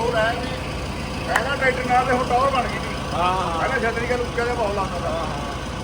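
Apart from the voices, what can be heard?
tractor engine idling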